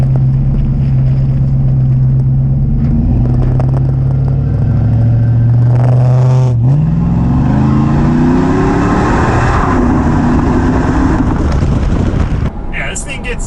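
A car accelerating hard from inside the cabin, the engine climbing through the revs, dropping at a gear change and pulling up again under heavy wind noise, with someone speaking over it.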